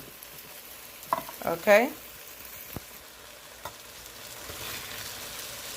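Fish seasoned with Goya seasoning and black pepper sautés in a pan while a spoon stirs it. Bursts of scraping and sizzle rise around the middle, then settle to a soft, steady frying hiss, with one short spoken word.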